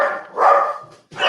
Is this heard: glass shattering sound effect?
no